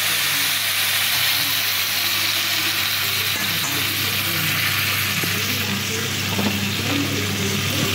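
Vegetables hit a hot frying pan after two cloves have gone in, giving a loud, steady sizzle with broadband hiss throughout, a low constant hum beneath, and occasional faint clinks of stirring, with no talking.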